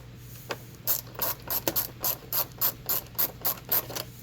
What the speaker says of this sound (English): go ahead, get that screw started